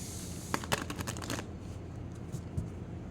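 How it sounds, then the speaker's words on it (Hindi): Tarot cards riffle and shuffle in quick, soft bursts of papery flutter up close, louder in the first second and a half, then a quieter faint rustle with a couple of light taps. "नहीं लूँगी मैं जब तक ये मैं अच्छे से शफल ना कर दूँ।"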